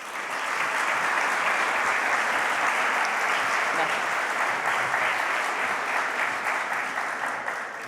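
A lecture audience at a research centre presentation applauds steadily and loudly for the full duration, dense clapping from many hands with no breaks.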